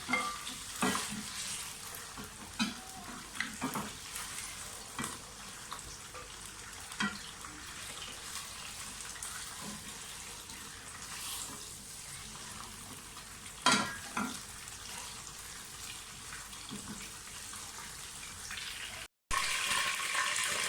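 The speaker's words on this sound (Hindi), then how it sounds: "दही डालकर हमने इसको हिलाना है अच्छी तरह से चिकन को।" Chicken coated in yogurt, being cooked into a grainy chicken korma, is stirred in a frying pan with a continuous soft sizzle and repeated scrapes and clinks of the spoon, steady throughout with no voices.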